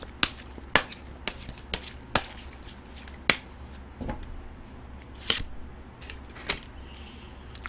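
Saju fortune cards being drawn and handled at a reading table: a series of sharp, crisp snaps and flicks at irregular intervals, close and clear against a quiet background, with no talk.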